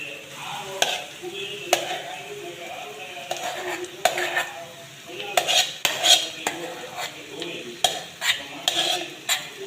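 A metal spoon scrapes and clanks against a pan as potatoes are stirred into sautéed onions for aloo paratha filling, with repeated sharp knocks over a soft sizzle.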